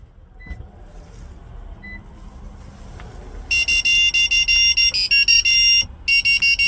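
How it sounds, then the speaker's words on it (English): A 2006-2015 Lexus IS 250 gives a rapid series of loud electronic beeps in repeated bursts after a quiet start, signalling that key fob programming has succeeded. "wait for a few seconds until you hear the beeping sound indicating programming is successful"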